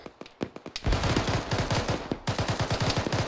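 Rapid automatic gunfire in a military firefight, dense overlapping bursts of shots cracking loudly and continuously, with a brief lull before the shooting resumes.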